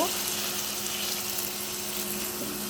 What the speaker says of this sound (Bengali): এখানে এখন একটু পানি দিয়ে দিব